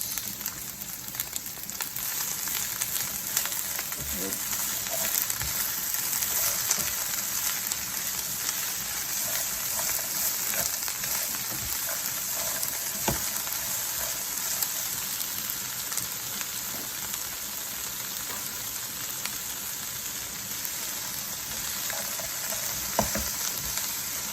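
Corn, green beans and carrots sauté with cabbage in a pan, giving a steady, moderate sizzle with faint crackles and occasional stirring taps, with no voices.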